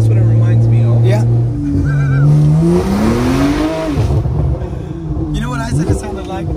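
A decat Porsche Turbo S exhaust revs up and drops, with loud rasping engine tones and sharp pops and bangs, close and dominant, with voices partly audible beneath.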